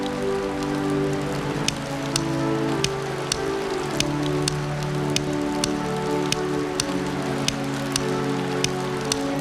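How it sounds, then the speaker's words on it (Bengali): Rain in a cartoon falls steadily on a surface, with a constant hiss and evenly spaced raindrop taps, heard alone without voices. "বৃষ্টি তো, তাই এইখানে একটু দাঁড়াইছি।"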